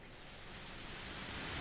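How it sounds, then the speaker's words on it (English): Rain pours steadily in the Higurashi video game, a dense, even hiss of falling water with no breaks, fairly soft and alone without voices. "It was raining. Of course it was."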